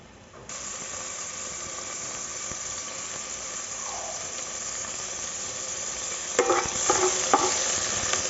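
Oil in a pan for cooking mango starts sizzling abruptly and hisses steadily up close, then a few quick scraping stirs clatter near the end.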